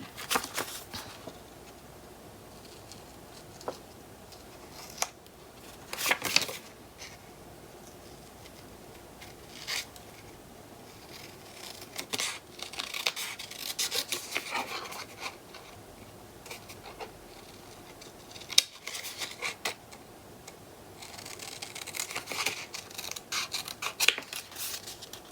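Scissors free-cutting paper for a papercraft project make quiet, intermittent snips and crisp slicing strokes in irregular clusters, separated by soft rustling of the paper between cuts.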